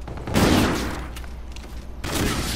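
Two loud sniper rifle shots from a first-person shooter video game, each a sharp broadband blast with a long rumbling tail; the first lands early and the second near the end, with no talking.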